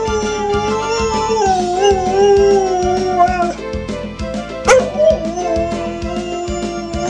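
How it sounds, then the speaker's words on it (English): Sophie the dog howls long and wavering beside a crying baby, close and loud, the howl sliding in pitch over a steady rhythmic background pulse. "Can you howl for her?"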